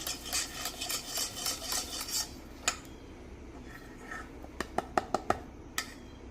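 Cornmeal batter for hoe cakes being stirred in a bowl. A quick rhythmic scraping and clinking runs for about two seconds, then scattered sharp taps and knocks of a utensil against the bowl follow. All of it is close and fairly quiet.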